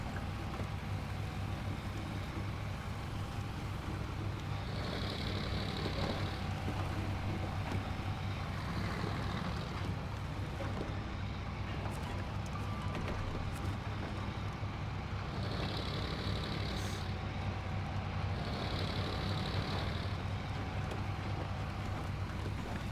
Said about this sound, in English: I like the way this truck sounds.